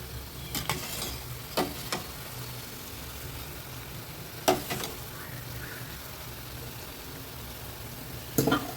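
Sweet bonda made from sour dosa batter fries in hot oil, a steady close sizzle with a low bubbling bed, punctuated by a few sharp clicks and taps of a utensil against the pan.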